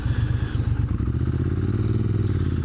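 A Triumph Street Twin motorcycle's exhaust rumbles steadily and loudly up close, a deep throbbing idle that firms up slightly partway through, with no voices.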